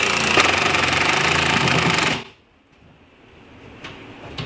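A loud, continuous power drill whirs for about two seconds, then stops abruptly, leaving faint room noise.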